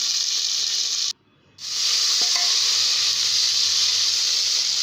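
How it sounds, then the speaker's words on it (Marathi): Green chili and onion sautéing in a pan for upma give a loud, steady close hiss that drops out for about half a second, then returns and holds. "हिरवी मिरची घेतली होती सुद्धा यामध्ये टाकून घ्यायची कांदासुद्धा लगेच टाकायचा आहे आणि दोन्ही पुन्हा परतून घ्यायचे"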